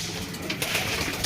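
Pigeons coo softly and steadily inside a loft housing around sixty to sixty-five birds, a low, murmuring chorus that stays faint and continuous throughout.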